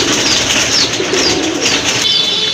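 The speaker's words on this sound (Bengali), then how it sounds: "ব্ল্যাকলেস শার্টিনের একটা নর কবুতর" A male blackless satin pigeon coos up close, its soft low calls rising out of a steady hiss of farm background noise for the short stretch.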